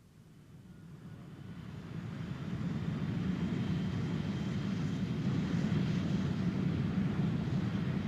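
A Lockheed F-104 Starfighter jet produces a steady, broad roar that swells over the first few seconds and then holds loud and constant, with no voices.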